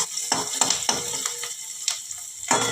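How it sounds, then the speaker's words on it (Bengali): Onions fry in oil in a pan with a close sizzle broken by repeated sharp stirring scrapes and clicks, irregular and fairly loud, without speech. "একটু লাল করে ভেজে নিতে হবে পেঁয়াজটাকে।"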